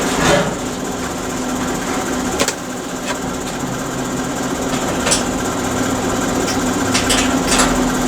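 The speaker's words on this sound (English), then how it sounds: "Let's see if I can weld this. I know it's really thin metal." A repaired SIP MIG welder runs a bead on thin metal with a continuous buzzing crackle and a steady hum, broken by a few sharper pops and spits.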